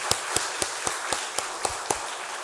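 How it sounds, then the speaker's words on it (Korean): A church congregation at a revival meeting claps in unison, eight crisp, evenly spaced claps about a quarter second apart over a low background hum, with no talking. "다시 한번 박수 하겠습니다."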